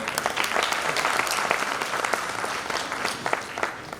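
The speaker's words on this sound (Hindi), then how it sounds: "लड़कियों के लिए एक बार आप ताली बजाइए।" An audience at an award ceremony claps steadily and fairly loudly for a few seconds, a dense crowd of hands with no cheering.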